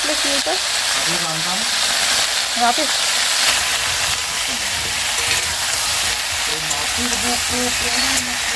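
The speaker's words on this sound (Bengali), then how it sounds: "এই যে সবজিটা বসিয়ে দিলাম শুটকি মাছ দিয়ে সিম আলু বেগুন" Vegetables with dried fish, beans, potato and eggplant sizzle and fry steadily in a pan, a loud continuous hiss with occasional stirring, while someone talks over the cooking.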